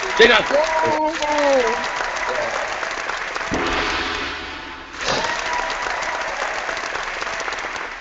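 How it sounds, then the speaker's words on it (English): A round of applause closing a Q&A session, a dense, steady clapping sound with voices talking over it at the start and a brief break midway before it resumes. "Round of applause for everyone who asked questions and answered."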